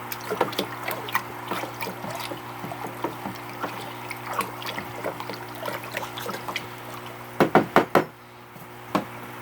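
Hydroponic nutrients are stirred into a bucket of water, making soft sloshing and light knocks against the bucket sides over a steady hum, followed near the end by a quick cluster of sharper taps.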